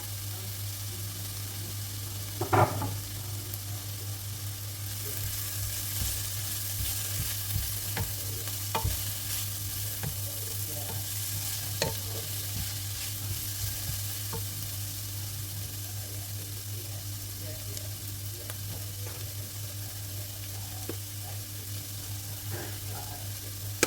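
Garlic sizzling in a frying pan, a steady bright hiss that runs throughout, with occasional stirring scrapes and clicks over a low hum, no one speaking.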